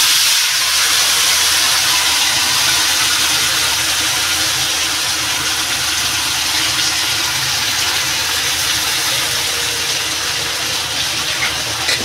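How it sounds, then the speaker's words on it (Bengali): Katla fish curry with green banana and potato hits a hot pan, giving a loud, steady, broad hiss of sizzling that continues unbroken with no talking. "তরকারিটা ঢেলে দেবো।"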